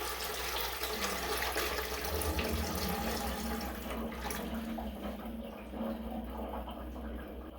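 Water gushes steadily from the opened valve of a leaking water heater into a bucket, a loud, continuous rushing splash that lasts throughout.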